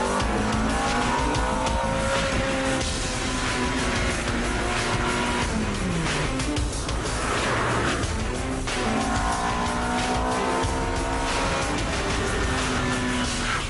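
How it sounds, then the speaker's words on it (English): A Ferrari sports car, driven on a road trip from San Luis Obispo to Los Angeles, revs loudly as its engine rises and falls through the gears, with a steady roar and a brief tire squeal, and no talking. "But trust me, in Chuck's Ferrari, the time flies"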